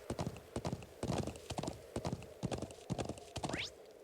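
A horse trots along in a video game, leading a sheep back to a settlement: steady rhythmic clip-clop of hooves, close and clear, with a short whinny-like rising squeal near the end.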